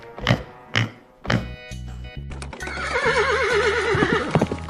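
A horse's hooves clop a few times, then a loud, close whinny rises and wavers before trailing off, with no talking over it.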